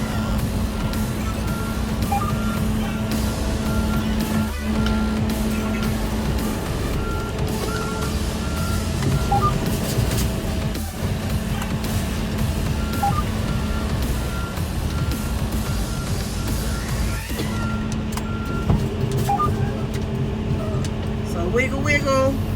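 Regular electronic beeps from a reversing truck repeat over a steady diesel engine rumble, with someone speaking over the noise.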